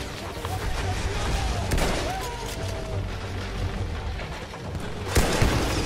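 Cannon and gunfire booms from the Battlefield 1 solo campaign, a dense battlefield din of repeated blasts with a sharper loud boom near the end, under game noise.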